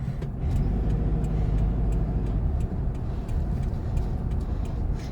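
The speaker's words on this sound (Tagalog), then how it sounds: "It's not bad the traffic today." Steady road traffic with cars passing on a busy road at sunset, a continuous loud rumble of tyres and engines without a break and no talking.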